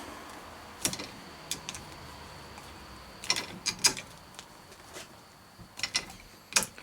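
Rivets being set by hand in a part clamped in a vise during a rebuild, heard as scattered sharp metallic taps and clicks in small clusters against a quiet background, with no talking.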